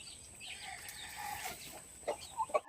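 Backyard chickens clucking near the keeper, a few soft clucks rising to short louder bursts toward the end, fairly close, over faint background hiss.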